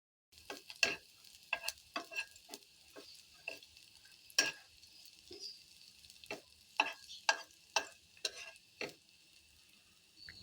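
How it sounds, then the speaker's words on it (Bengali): Chopped onion and garlic fry quietly in a pan, with soft sizzling broken by a string of sharp stirring clicks and scrapes at irregular intervals, close by and with no talking. "আমি খুব সুন্দরভাবে পেঁয়াজ কুচি আর রসুন কুচিটা ভেজে নিচ্ছি"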